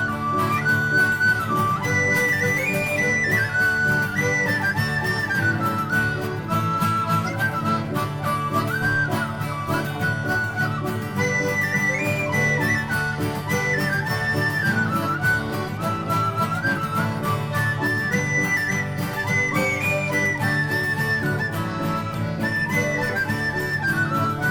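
A tin whistle plays a melody at an outdoor winter gig, a bright, reedy tune repeating its phrases steadily over a backing of strummed strings, with no singing.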